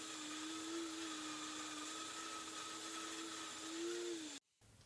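A vacuum pulls away fine sanding dust while a wooden garden dibber handle is turned on a lathe, giving a steady, moderately loud whirring drone that holds evenly for several seconds before cutting off abruptly.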